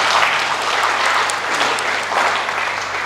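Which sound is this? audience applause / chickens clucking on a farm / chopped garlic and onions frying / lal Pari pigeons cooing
audience applause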